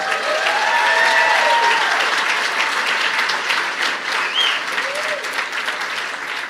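A stand-up comedy audience applauds educators, a dense sustained wash of clapping filling the room, loud and steady, slowly tapering toward the end, with a few faint voices and whoops mixed in.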